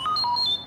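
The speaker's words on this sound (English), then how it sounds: "You will know it is time to turn the page when you hear R2-D2 beep like this." R2-D2 beeping as a page-turn signal, a quick burst of bright electronic chirps and warbling tones lasting under a second, clear and close.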